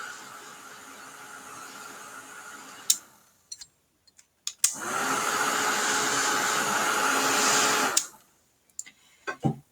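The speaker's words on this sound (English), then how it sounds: "Now I'm going to hit this with the dryer" A hair dryer blows on wet paint in a painting demonstration. It gives a steady whirring blast that stops, then after a few small clicks and taps comes a louder, longer run that cuts off near the end.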